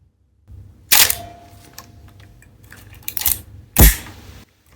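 Olympus OM-1n 35mm film camera firing its shutter, with sharp mechanical clacks and a softer ratcheting film advance in between, close and clear in a quiet room.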